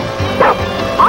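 A dog, apparently from the 1990s show Land of the Lost, gives a few short yipping bow-wow barks and whimpers in quick succession, close and moderately loud.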